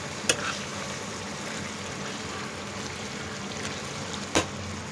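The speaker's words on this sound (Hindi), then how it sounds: "इस स्टेज पे हम डालेंगे पालक और इसको बिना कवर करके अब कुक करेंगे।" Spinach cooking uncovered in a pot gives a soft, steady simmer and sizzle, with two sharp clinks near the start and end, and no voices.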